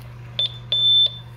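A Honeywell security alarm keypad gives short electronic beeps: two quick chirps, then a longer sustained tone, clear and close in a quiet room with a low hum beneath.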